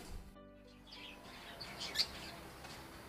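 Pet budgies and lovebirds chirp faintly in an aviary, with scattered high tweets under a noisy background.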